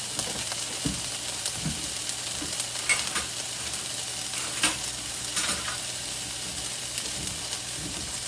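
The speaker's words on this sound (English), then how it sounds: "I'm going to add in a tiny bit of chopped garlic" Onion and chopped garlic sizzle and fry in a hot pan while being stirred, a continuous close hiss broken by occasional soft scrapes and taps of a spoon.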